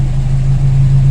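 A Toyota Corolla Big Body GLi engine idling loud and close, a steady low hum with a slight rise in pitch as the revs climb.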